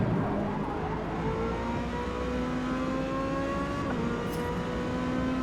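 A stock Ferrari V8 engine in the Forza Motorsport racing game, racing in the rain, holds a loud steady drone that rises in pitch through the gears, with one gear change partway through.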